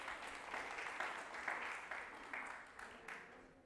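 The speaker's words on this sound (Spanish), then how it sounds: "Gracias por el aplauso." Quiet, distant applause fills a church during a Sunday service, a soft patter of many hands that gradually tapers off.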